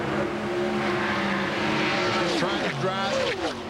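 1998 NASCAR Winston Cup cars roar around Daytona during practice, a sustained engine drone with one car's pitch rising and sweeping past, while a commentator talks over it.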